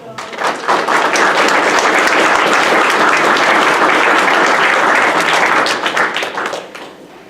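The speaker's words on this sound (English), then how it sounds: "we'd like to give a big round of applause" A room of attendees at a February forum on waterbody and waterway delineation and regulation gives a sustained round of applause, loud and full for about six seconds before tapering off.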